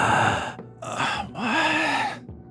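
A human voice mimics a creature's heavy breathing from behind a door, with three drawn-out breaths, raspy and groaning with a wavering moan in the middle, close and alone.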